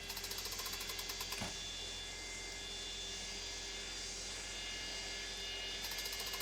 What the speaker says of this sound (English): It's that very classic engine high-pitched whine it makes.